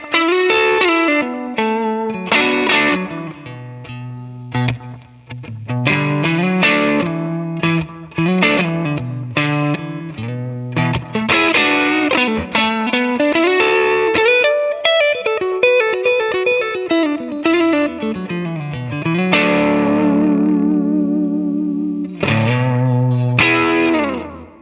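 A distorted electric guitar through a Line 6 Helix plays a flowing melodic lead, notes ringing out with echoing delay and a wash of reverb, loud and continuous without any voices.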